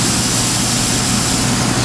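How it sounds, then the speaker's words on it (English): Steam blasts onto a burger topped with sautéed mushrooms, crispy bacon and American cheese as it cooks, a loud steady hiss and roar that fills the whole moment without a break. "A little shot of steam."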